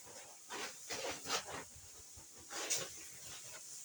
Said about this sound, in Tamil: செகண்ட் ஸ்ப்ரே பண்ணுறாங்க.